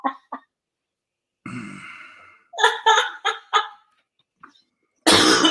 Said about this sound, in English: Have you heard your cough?